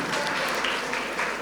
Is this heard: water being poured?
no